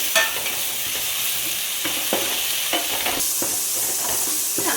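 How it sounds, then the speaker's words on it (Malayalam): Ginger paste and a ripe tomato fry in a pan while a spoon stirs them, steady close sizzle with repeated scraping strokes at an irregular pace, no voices. "എന്നിട്ട് വീണ്ടും നന്നായിട്ടൊന്ന് ഇളക്കി കൊടുക്കാം."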